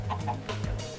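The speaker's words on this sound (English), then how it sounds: "Oh look, there's chickens." Minecraft chickens give several short, clipped clucks in quick succession, close and fairly clear over a faint steady background hum.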